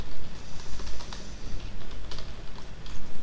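Rapid, irregular typing on a computer keyboard during game programming, with clustered key clicks and brief pauses, close and fairly loud, with no talking.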